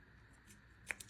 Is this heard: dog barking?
no